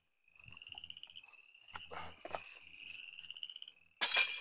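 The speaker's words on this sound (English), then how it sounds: "And the frogs are going at it." Frogs croak in a steady pulsing trill outdoors by a disc golf course, with scattered clinks and rustles, then a louder burst of noise at the end.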